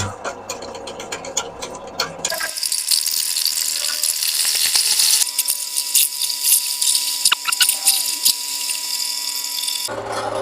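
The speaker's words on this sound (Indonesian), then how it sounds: "Biar kita bor untuk yang satunya lagi" A power drill whines and grinds as it bores through a metal gear for a homemade forward-reverse gearbox, loud and close with water noise, rattling bursts and brief pauses between runs.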